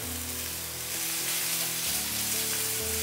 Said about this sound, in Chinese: 葱、红萝卜、蒜头下锅煸香